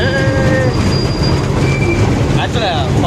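Small ride train rolling through the Chennai rail museum grounds, a steady rumble with squealing wheel tones and faint rail clatter, continuous and fairly loud throughout.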